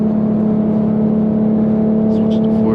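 An Infiniti G37 engine drones steadily and loudly at close range during a race run, holding a constant hum that builds slightly toward the end.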